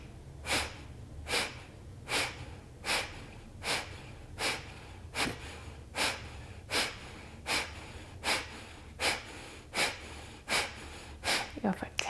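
Rapid, forceful belly-pumping breaths in a yoga breathing exercise, about sixteen sharp nasal exhales at a steady, even rhythm, close and clear with no talking.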